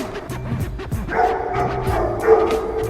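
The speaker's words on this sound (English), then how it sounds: "That's the most LA thing you could see, is a guard dog sign like this and actual active guard dogs in here." Guard dogs shut inside a building in Los Angeles bark loudly and repeatedly in quick overlapping bursts, close by and with no talking over them.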